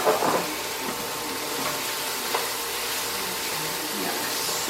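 Garlic sautés in a pan with a soft, even sizzle and hiss, close but fairly quiet, with a brief stir and clink near the start.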